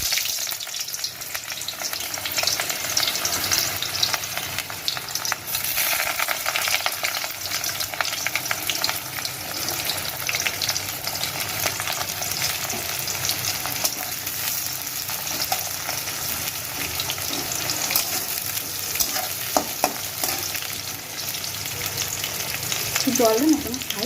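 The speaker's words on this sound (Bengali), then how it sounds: "দেখো আমার তেল গরম হয়ে গেছে, এখন এর মধ্যে আমি পেঁয়াজটা দিয়ে দেব" Chopped onion sizzling and frying in hot oil in a home kitchen pan, a continuous close crackle with occasional stirring and spatter throughout, no talk.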